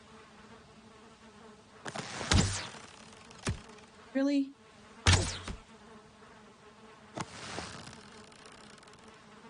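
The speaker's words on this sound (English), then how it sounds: "I believe I heard a bee's nest." Bees buzz at a bee's nest in a video game, a steady insect drone running under several sharp bursts and knocks. A voice speaks briefly in the middle.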